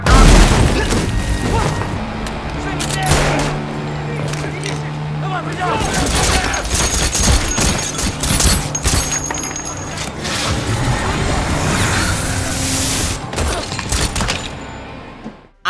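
Bursts of gunfire and booming impacts ring out in an action film scene, dense and loud over a music score, with a voice talking over the top throughout.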